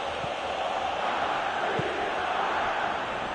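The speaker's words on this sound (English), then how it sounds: "at least the crowd are appreciative of his efforts" A stadium crowd in a PS4 football video game gives off a steady, continuous roar of cheering that holds at an even level for the whole stretch.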